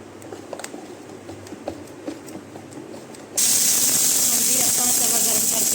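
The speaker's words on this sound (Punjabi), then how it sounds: "ਤੇ ਪਾਣੀ ਦਾ ਛਿੱਟਾ ਮਾਰ ਲੈਣਾ" Water splashed onto a hot dosa griddle in a village kitchen. After quiet kitchen clatter it bursts into a loud, sustained steam hiss and sizzle right up close, with a voice faint underneath.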